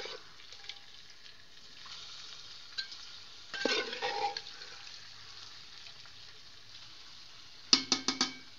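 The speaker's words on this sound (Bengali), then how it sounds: "এখন আমি মাংসটা এর ভিতরে দিয়ে দেব।" Boiled beef is stirred into fried spice paste in a pan, giving a soft steady sizzle with a few louder scraping stirs in the middle and a short clatter of spoon knocks near the end.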